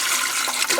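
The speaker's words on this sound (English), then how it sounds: "2 cups of hot water, which are going right into this right now" Two cups of hot water pour into a stainless steel commercial KitchenAid mixer bowl for multigrain bread dough, a bright, steady gushing splash close to the microphone, alone for under a second.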